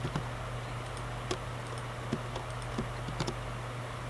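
Computer keyboard keys tapped while entering a spreadsheet formula, a scattering of soft, sparse clicks over a quiet steady hum, close and unhurried with no voices.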